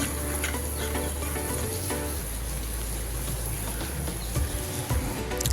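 Ground masala paste sautéing in a pan for a Maharashtrian pigeon-pea curry, a steady dense sizzle and crackle running throughout at close range, with occasional faint clinks.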